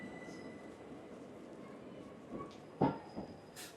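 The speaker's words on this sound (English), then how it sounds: "we've got an Electrostar 375, 305. 3 carriages." A three-carriage Southeastern Electrostar Class 375 electric train rumbles along steadily at moderate distance, with a few clanks and a brief squeal of wheels near the end.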